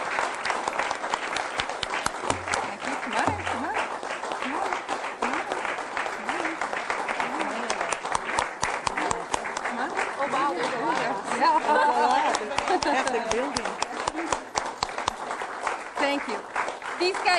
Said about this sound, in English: I'd like everyone to please give a round of applause to our fabulous staff